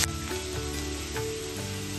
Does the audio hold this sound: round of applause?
no